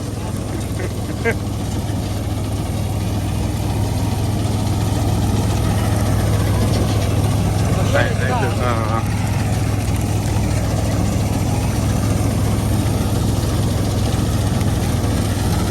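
A 275 DI tractor engine idles steadily with a constant low rumble throughout, while faint voices talk intermittently in the background.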